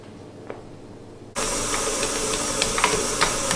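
An electric stand mixer kneads bread dough made with instant yeast in a mixing bowl, switching on abruptly partway through with a loud, steady whirring hum and faint clicks after a quiet start.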